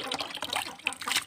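Water pours from a pitcher onto pig feed mixed with banana to soak it, a short splashing, gurgling stream heard up close.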